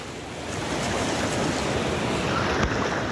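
Sea waves at Mohona beach in Digha roll and wash steadily, a broad surf roar that builds slightly and then holds, mixed with some wind buffeting on the microphone and no talking.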